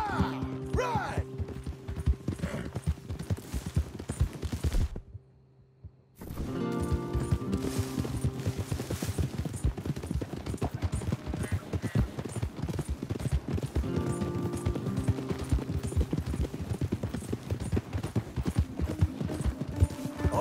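Hooves pound in a rapid, continuous gallop as several horses are ridden in Red Dead Redemption 2, the clip-clop loud and close with a brief silent gap partway through, then resuming under a low musical score.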